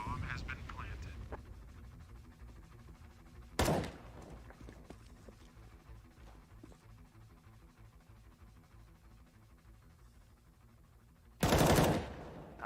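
AWP sniper rifle fire in Counter-Strike: Global Offensive during a StarLadder Berlin Major 2019 match, two sharp, loud single shots several seconds apart over a quieter game background.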